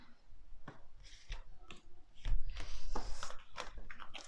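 Tarot cards are drawn and handled in a run of soft, close shuffling, flicking and tapping sounds that come at an uneven pace.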